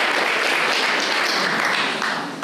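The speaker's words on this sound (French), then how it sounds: "nous applaudissons Sophie Oconissi" A conference audience applauds a speaker, a dense and steady wash of clapping that carries through the full stretch and eases off slightly toward the end.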